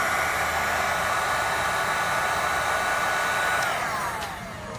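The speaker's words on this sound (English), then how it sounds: "I'm going to grab my heat gun and seal up the ends" A heat gun blows steadily at close range to shrink and seal a heat shrink butt connector on a 7-way RV trailer brake controller wiring kit, a constant whooshing drone that eases slightly near the end.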